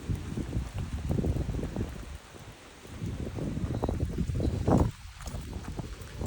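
Steady rain patters outdoors in Kyiv amid gusty wind noise buffeting the microphone, with scattered rustling and footsteps-like thumps.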